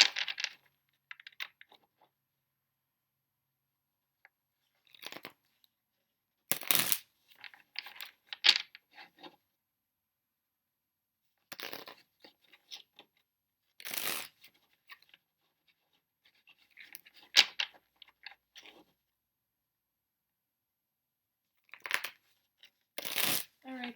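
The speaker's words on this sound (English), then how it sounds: "So I'm just going to shuffle these cards for Taurus" Tarot cards being shuffled by hand in short bursts of riffling and rustling, separated by quiet pauses and occasional soft speech.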